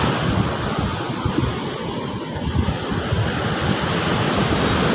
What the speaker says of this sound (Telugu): చూడండి ఎలా ఎగురుతుంది వాటర్, రాళ్ళు కదా